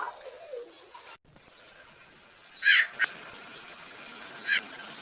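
Cartoon crow caws in several short, separate calls, one loud at the start and softer ones later, with quiet gaps between them and no talk.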